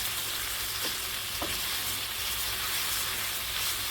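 Sliced onion strings fry in hot lard in a pan, a steady dense sizzle with a couple of soft stirring knocks, close and continuous with no talking.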